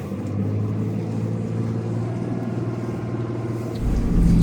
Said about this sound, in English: So we're driving on this really twisty road.